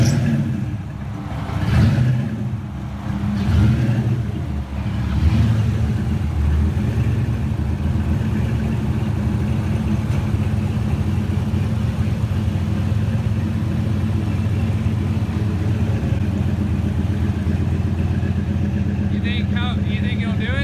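A turbocharged Fox Body Ford 302 V8 is run through its rev range on a dyno, a loud, sustained, close mechanical roar with a few sharp throttle blips at the start that settles into a steady, heavy drone.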